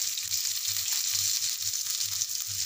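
Onion with peanut powder, garlic paste and coconut sautéing in a pan, a steady close hiss and sizzle with soft, regular stirring thumps underneath, and no voices.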